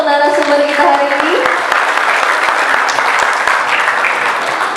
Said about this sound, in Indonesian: Kita kasih tepuk tangan dulu dong untuk narasumber kita hari ini.